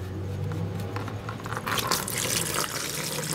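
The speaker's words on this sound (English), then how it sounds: "that will let the water drain." Water drains from a Mazda Miata radiator, running and splashing in a steady stream, growing louder and more turbulent partway through, with no one speaking.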